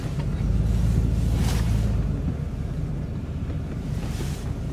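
An old Buick driving along, its engine giving a steady low rumble with road and wind noise, a louder surge in the first two seconds, then an even drone with no talking.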